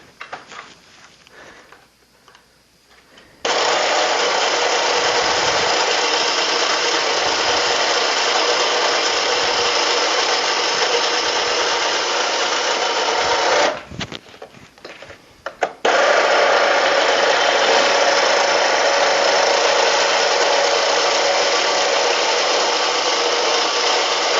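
A vehicle winch motor reels its cable back onto the drum after the steel braided line has been spooled out, giving a loud, steady grinding whir that starts, cuts out briefly, then resumes and runs on.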